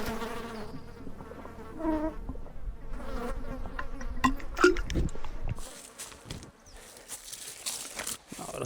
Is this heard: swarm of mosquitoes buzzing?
yes